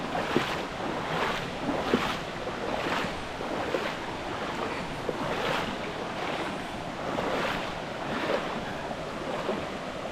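Whitaker Creek in the Upper Buffalo Wilderness Area, a continuous rushing wash of flowing water with soft swells and wind buffeting the microphone, steady and fairly close, with no voices.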